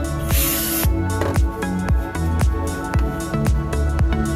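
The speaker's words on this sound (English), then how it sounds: "We'll spray the rag and then wipe this down." A short hiss of aerosol spray onto a rag at the start, followed by a steady pulsing beat of music in the background.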